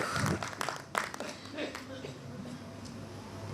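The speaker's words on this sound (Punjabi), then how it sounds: "ਡਾਕਟਰ ਸਾਹਿਬ ਬਾਰੇ ਜ਼ੋਰਦਾਰ ਤਾੜੀਆਂ ਮਾਰ ਕੇ" An audience at a book release applauds for a doctor, with a moderate burst of clapping that fades into a quieter patter of claps while a voice speaks over it.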